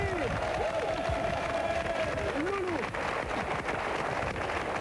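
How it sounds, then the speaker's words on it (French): An audience claps for a guest on a French TV game show set, a moderate burst of applause and crowd noise with whistle-like tones sweeping over it. "Propose d'applaudir Loulou qui est avec nous."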